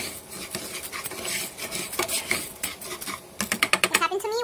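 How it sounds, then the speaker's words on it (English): Rice browning in a pot while a metal utensil keeps stirring and scraping it, a steady rasping, clinking texture that grows more rhythmic toward the end, with faint talk. "So you just gotta keep stirring it"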